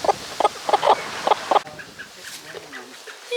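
A hen clucks in a quick series of loud, close, bursty calls for the first second and a half, then quieter chirps and clucks follow in a henhouse where chicks have been hatching.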